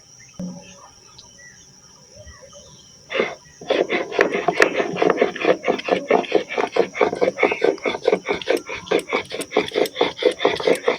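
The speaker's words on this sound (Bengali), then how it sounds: "এই ভাজা মশলাটা এবার আমি সিলে বেটে নেবো" Fried spices are ground on a flat grinding stone in rhythmic, rasping back-and-forth strokes, close by, starting after a few quiet seconds and repeating steadily.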